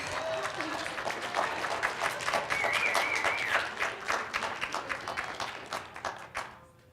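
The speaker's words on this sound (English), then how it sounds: "thank you all for clapping" An audience at a live inspirational event claps, a moderately loud patter of hands rising and fading over several seconds, with a faint voice and some tonal sounds behind it.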